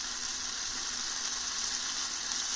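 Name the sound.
green beans sizzling in a pan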